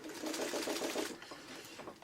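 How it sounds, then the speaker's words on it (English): A sewing machine backstitches a purse seam, running in a short burst of rapid, even stitching that stops and resumes more softly as it reverses, heard up close with no talking. "now I'm going to backstitch to hold everything in place"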